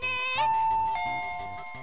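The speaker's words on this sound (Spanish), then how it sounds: "vamos a tocarle el timbre" A chiming ding-dong doorbell in the Roblox game Brookhaven rings out clearly, a bright two-tone electronic chime with a sustained ringing tail, with faint game sounds underneath.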